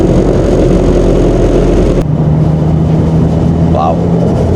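A Toyota Altezza with a swapped SR20 engine drives along, its steady engine drone and road rumble loud and close inside the cabin, dropping to a lower hum partway through, with people talking over it.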